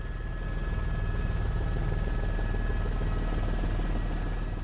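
Tour helicopter flying over the beaches, hotels and condos of Waikiki on Oahu, its rotor thumping in a steady rapid beat under a constant loud engine whine, close and continuous with no talk.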